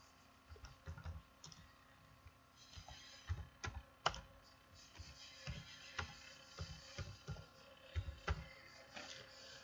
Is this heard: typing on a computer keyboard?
yes